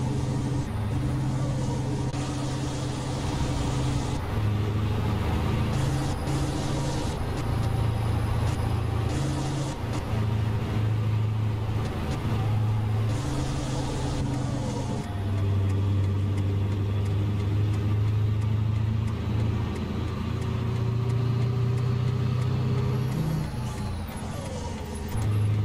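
A Scania 113 truck pulling a nine-axle bitrem trailer loaded with limestone drones steadily through town near Limeira, its diesel engine climbing and dropping through gear changes with a constant low rumble and road noise.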